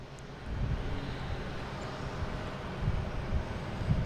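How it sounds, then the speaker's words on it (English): A JetBlue airliner bound for St. Thomas at Boston Logan International Airport gives off a low, distant engine rumble with wind noise, rising slightly after the first half second and holding steady. "Now we got JetBlue heading to, this is St. Thomas."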